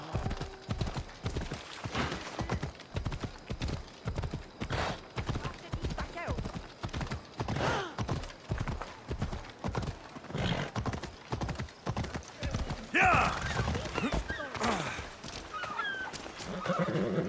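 A horse's hooves clip-clop in a steady, even rhythm for the whole stretch, fairly close, and a neigh rings out near the end.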